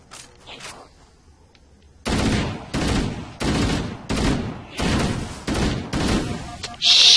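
Jackals in Halo Anniversary fire at the player in rapid bursts, first faint and then loud and close. About six evenly spaced volleys sound over a couple of seconds each.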